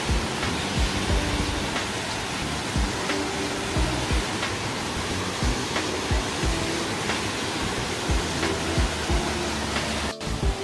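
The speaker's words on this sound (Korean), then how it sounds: "희방폭포의 상부 모습이에요." Heebang Falls on Sobaeksan, a cold mountain waterfall pouring down into a valley, heard as a steady, full roar of falling water with no talk.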